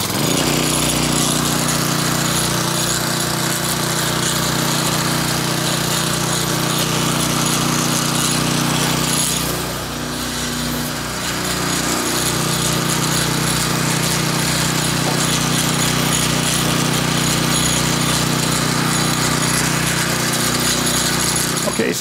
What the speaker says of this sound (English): So I'm going to go ahead and start the pump up and check that out with my gauge and a tool.